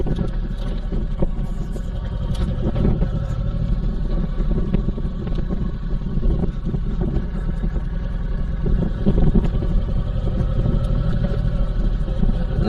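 A Honda VTX1800C cruiser motorcycle rides off-road on wet grass, its big engine giving a steady low rumble with bumps and wind buffeting, loud and near, with no talking.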